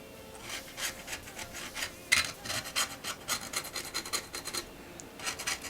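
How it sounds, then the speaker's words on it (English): Old light seal material being scraped off an Olympus 35 DC rangefinder camera, a close, dry rasping scrape repeated in quick strokes for several seconds with no talking. "I'm going to just be scraping the seal material off like so"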